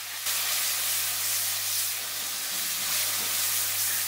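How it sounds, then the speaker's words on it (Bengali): Whole garam masala and bay leaves sizzle in hot oil, a steady close hiss that starts abruptly and holds evenly, with no talking. "এখন ওই তেলেই গোটা গরম মশলা আর তেজপাতা ফোড়ন দিয়ে হালকা ভেজে দিয়ে দেব"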